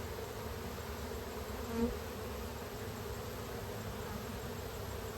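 A steady, dense buzzing of many honeybees, tens of thousands, swarming close around hive boxes, continuous for several seconds with a brief swell partway through.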